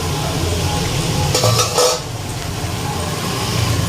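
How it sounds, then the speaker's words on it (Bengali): Beans and carrots frying in one pan while mutton braises in another, a steady sizzle with a few clinks of a utensil stirring against the pan, no talk. "এদিকে এই যে বিনস, গাজর এগুলো ভাজা বসিয়েছি, আর এখানে মাংস কষাচ্ছি"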